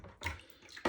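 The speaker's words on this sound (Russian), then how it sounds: "Налил горячей воды" Hot water pours into a container for cleaning metal-detecting finds, a short close splash that swells, fades, then comes back briefly at the end.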